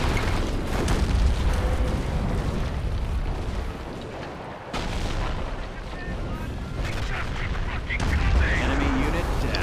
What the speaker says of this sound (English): Nice Walking Stuka barrage,